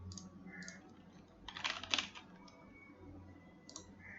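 A computer keyboard being typed on, with a brief flurry of quiet keystrokes in the middle and a few scattered taps around it, close but soft over faint room hum.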